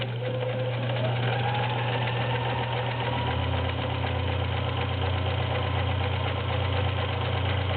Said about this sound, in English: Now we're going to start out with zigzag.